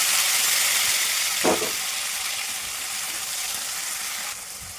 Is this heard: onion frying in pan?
yes